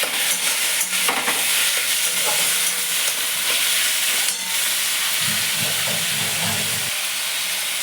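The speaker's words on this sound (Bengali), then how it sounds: "চিকেনটা একটু ভাজা ভাজা করে নিই" Chopped chicken frying in a wok of hot oil with onion and garlic gives a loud, steady sizzle and hiss. Stirring scrapes come through near the end, and no one speaks.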